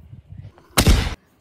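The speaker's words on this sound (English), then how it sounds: "Wow, people are putting fireworks." A single loud firework bang bursts for under half a second during a Fourth of July celebration, preceded by faint low murmuring voices and followed by quiet.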